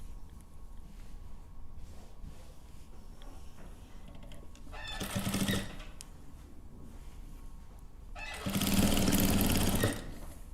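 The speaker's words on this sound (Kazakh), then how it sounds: "екі жағын да осылай тігіп аламыз" Two short bursts of steady mechanical stitching while sewing both sides of a quilted Khan blanket, the second burst longer, with quiet pauses between them.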